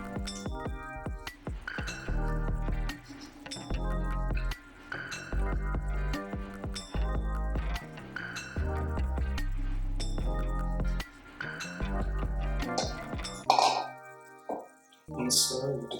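A utensil clinks repeatedly against a bowl as eggs are folded into eggnog waffle batter, giving a steady rhythm of light clinks with a few softer scraping sounds near the end.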